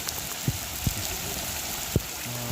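Soft, steady rain hisses in the background with a few scattered drips and taps standing out, fairly quiet and even throughout.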